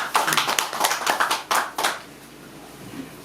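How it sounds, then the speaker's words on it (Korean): A handful of people clap at a press briefing on local election pledges in Pocheon, a short burst of close, uneven hand claps that stops after about two seconds, leaving quiet room tone. "우선 이철희 위원장님 박수 좀 부탁드리겠습니다"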